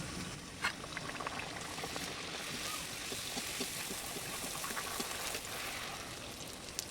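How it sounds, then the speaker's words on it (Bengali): Kachori frying in hot oil for homemade raj kachori, a steady dense sizzle and crackle with scattered small pops, continuous and fairly close throughout. "তেল গরম হয়ে গেছে, কচুরিগুলো ভেজে নেব।"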